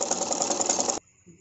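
An electric sewing machine runs a steady whirring stitch along a garment's neckline edge for about a second, then stops abruptly, leaving near silence with a faint soft rustle.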